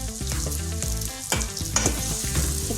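Curry ingredients fry in a pan with a loud, continuous sizzle, and stirring scrapes and knocks rise through it now and then. No voices are heard.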